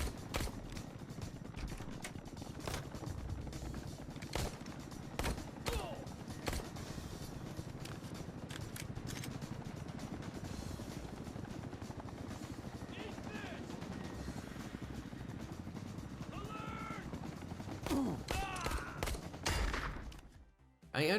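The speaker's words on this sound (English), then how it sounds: "I was shocked how this initial enemy was shooting at me" Gunfire from the XIII Remake video game, with sharp repeated shots spread across a constant rumbling game soundscape and some mechanical noises, ending with a short drop to near silence.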